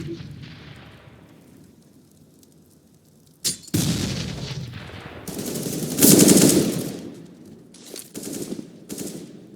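Counter-Strike gunfire from AK-47s and Galils in a competitive ESEA match: sharp bursts of automatic rifle fire, several rapid volleys with quieter gaps, fairly close and loud.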